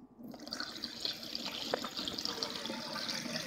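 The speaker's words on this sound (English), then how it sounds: "I'm going to go ahead and just pour off some of the excess liquid" Excess liquid poured off a settled yeast starter, a steady close splashing trickle that runs unbroken for a few seconds with no talking.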